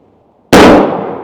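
A single loud, close gunshot from a Henry 12 gauge shotgun firing a TSS turkey load, an abrupt blast out of near silence followed by a short decaying roar.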